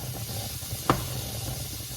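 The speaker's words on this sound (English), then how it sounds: "Oh, that rice cooker is really going." A rice cooker steams and hisses steadily in a kitchen, a soft continuous airy rush with one brief louder spurt partway through, heard alone.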